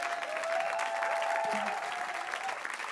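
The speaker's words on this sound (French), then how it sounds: "On peut applaudir chaleureusement Jouvia" Warm audience applause at a French live show, steady clapping from a crowd sustained throughout with a faint tonal hum underneath.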